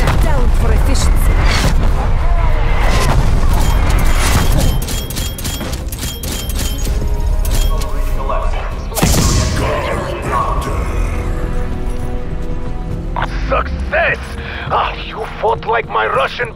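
A called-in artillery strike in a Call of Duty Cold War zombies round on the Firebase Z map brings a dense barrage of booming blasts and crackling gunfire, with radio-style voices speaking over the chaos.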